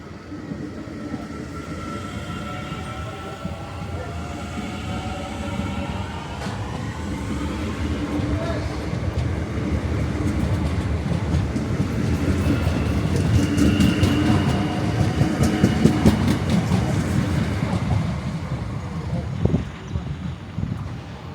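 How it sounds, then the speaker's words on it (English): A train arriving at Howth railway station in Ireland: a low rumble and wheel noise that build steadily over twenty seconds, with wind buffeting the microphone and squealing tones from the rails. "I'm going to film a train arriving now"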